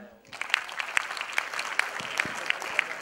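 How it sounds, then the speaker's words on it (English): Audience applause at a lecture hall session, a steady patter of clapping from a crowd with a few sharper claps standing out, lasting throughout. "Can we clap for him?"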